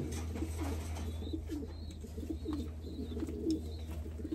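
Pigeons at a racing pigeon loft coo steadily in soft, repeated low phrases close by, over a constant low background hum, with a few faint higher chirps mixed in.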